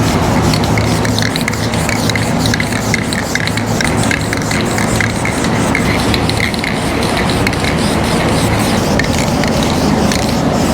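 Rattle-can aerosol spray paint hissing steadily and loudly onto a car panel in a light dust coat, a continuous close hiss with faint nozzle sputter and no talking.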